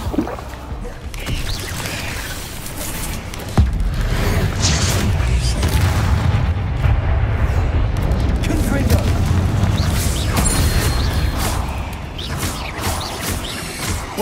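Bombarda spell blasts in Hogwarts Legacy during a fight against exiles, a dense run of heavy booming explosions and crashes over rumbling battle noise, with a voice calling out amid the din.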